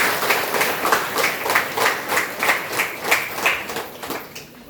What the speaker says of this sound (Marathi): यांच्यासाठी एकदा जोरदार टाळ्या व्हायला पाहिजे